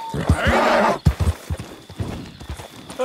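A horse in Red Dead Redemption 2, just tamed, gives a loud, close whinny that rises and falls, followed by several hoof clip-clops.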